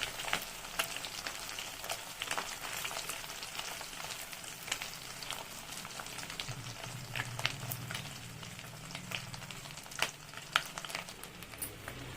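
Spiced masala for egg curry sautéing in a pan, a steady soft frying sizzle with scattered crackles and light stirring clicks, continuous and close with no talk.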